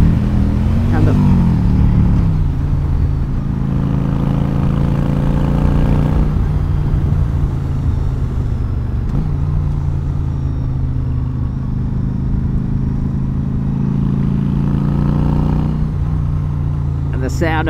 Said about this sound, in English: sound of a V-twin